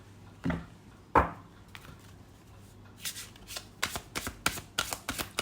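Tarot cards are handled at close range: a few soft slides and taps early on, then a quick run of crisp shuffling snaps toward the end, with no talking over them.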